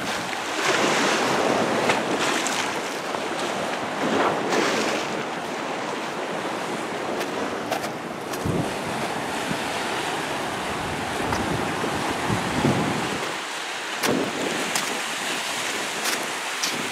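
Ocean waves on an East Coast beach break and wash in continuously, a loud rolling surf with gusts of wind buffeting the microphone and no voices.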